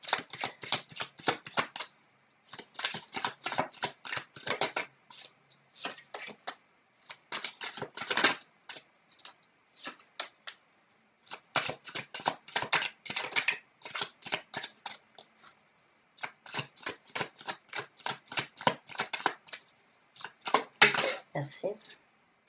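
Tarot cards being shuffled in rapid crisp riffling bursts, repeating in several runs with short pauses, close and fairly quiet, while someone speaks French in between.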